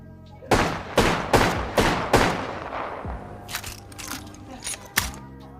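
Five rapid loud shots from a JAKKS Pacific Wingman toy pistol ring out in quick succession, each a sharp burst with a short tail, followed by quieter clicks and handling noise.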